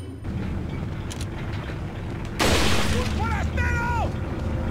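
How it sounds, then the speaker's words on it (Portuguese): A heavy game boom hits midway as a large boss creature lands from a jump in Resident Evil 4, a loud crashing burst followed by warbling tonal effects, with voices talking throughout. "Esse barulhinho dele pulando é escroto"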